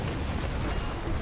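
Ship cannon fire in the naval video game Naval Action, a dense, continuous rumbling barrage of booms filling the whole moment, fairly faint and without talk.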